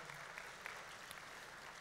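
Audience applause at a 2016 innovation festival's welcome remarks, a steady, fairly faint patter of many hands clapping throughout with no voices over it.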